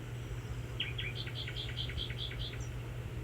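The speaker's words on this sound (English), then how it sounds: "I think you love the nightingale on the bird phone" Nightingale song played from a phone speaker, a quick series of about nine bright, repeated chirping notes over steady low hum, fairly faint and close, with no talking.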